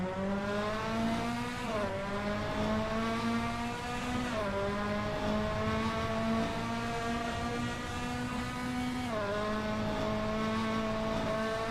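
Race cars in a sim racing game launch at the race start at Sydney Motorsport Park, with a loud, continuous layered engine whine that climbs in pitch and dips sharply at each gear change.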